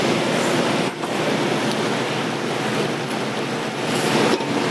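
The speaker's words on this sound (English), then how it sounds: "So let's add the sauerkraut." Sauerkraut goes into a hot pan of pork reduction, a dense steady sizzling hiss with a couple of brief dips as more is dropped in, heard alone without talk.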